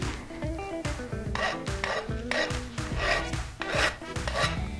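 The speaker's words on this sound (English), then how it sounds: "cut that off, file down the burrs, same thing on the insides of the holes. We used a round file" A round file rasps burrs off metal on a water-heater barbecue build, a rhythmic series of gritty back-and-forth strokes, close and fairly loud, with no talking.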